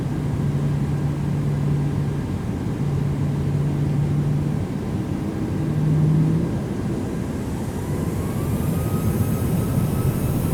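Boeing jet engines spool up to takeoff thrust on the runway, a steady broad low roar heard from inside with a rising high whine toward the end.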